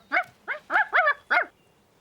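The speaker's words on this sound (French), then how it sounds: "Tu es un gentil chien." A sled dog barks five times in quick succession, the barks loud, close and clear against an otherwise quiet background.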